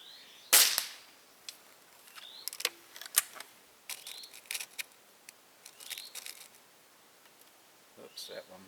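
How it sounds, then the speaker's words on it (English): An FWB Sport air rifle fires a pellet with one sharp, close crack, followed by a series of quieter clicks and clacks as it is handled and reloaded at an outdoor range. "QYS pellets shoot absolutely superb through this rifle."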